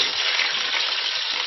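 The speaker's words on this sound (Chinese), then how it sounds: "炒出香味之后，我们再放入芹菜" Celery tipped into a hot wok for a stir-fry while making Cantonese beef offal, giving a loud, dense, continuous sizzle that stays even throughout, with no talking.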